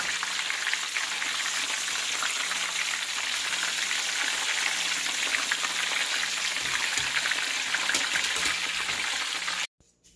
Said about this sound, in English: I am deep frying it.